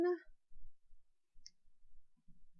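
A computer mouse gives a single faint, sharp click during a quiet moment, with soft low background noise and no other sounds.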